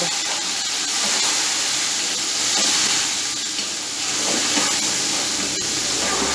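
Mutton sizzles in a pot with browned onions, giving a steady hiss and frying crackle with faint stirring scrapes throughout and no voices.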